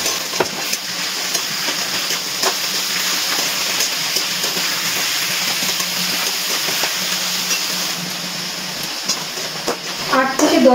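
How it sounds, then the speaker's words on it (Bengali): Mutton pieces with onions frying in hot oil over a high gas flame, a steady sizzle and hiss with scraping stir strokes throughout, louder clatter near the end. "এবারে গ্যাসের ফ্লেমটা হাইতে দিয়ে কিছুক্ষণ একটু নাড়াচাড়া করে নেব।"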